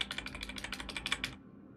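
Rapid keypresses on a computer numeric keypad, about a dozen crisp, close clicks in a quick rhythm before stopping.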